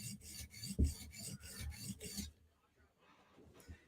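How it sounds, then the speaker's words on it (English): A Chris Reeve Umnumzaan knife tip is drawn across a 150-grit sharpening stone in about six close, rhythmic rasping strokes, which then stop and leave near silence. "just sawing away with the 150, trying to profile the tip"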